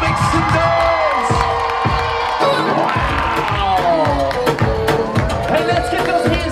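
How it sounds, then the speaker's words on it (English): Wedding guests on a Miami dance floor cheer and whoop loudly, a near, boisterous roar of shouting voices with sustained yells over thumping party music. "Come on, y'all, make some noise."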